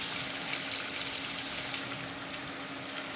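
Carrot pieces fry in a pan for sambar, giving a steady, close sizzle of hot oil that holds even and unbroken throughout, with no voices.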